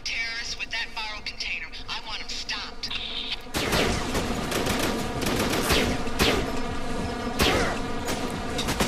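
Weapon gunfire in the video game Syphon Filter: The Omega Strain, dense rapid automatic shots with buzzing, clattering texture that thickens and grows louder partway through, alongside continuous game sound effects.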